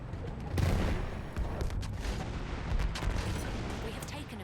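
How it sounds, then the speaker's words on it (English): Anti-aircraft guns firing in the video game Battlefield 1, a heavy barrage of booming shots and rumbling blasts layered with battlefield noise, loud and continuous throughout. "They're shooting up the anti-aircraft guns"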